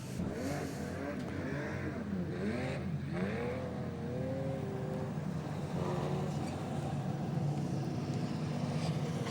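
A modified production race car drives a lap of honour at Carina Speedway, its engine note rising and falling in sweeping revs over a loud, constant crowd and track roar.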